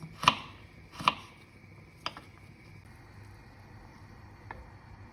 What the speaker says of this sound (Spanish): Luego cortamos también así para agregarle al guiso